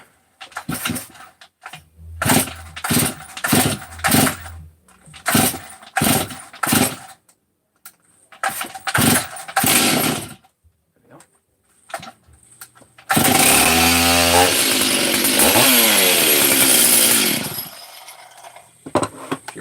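A Husqvarna chainsaw with the choke on, from a 359 or 440 hybrid, is pull-started several times in loud rhythmic bursts, then fires and runs at a steady, loud revving roar up close.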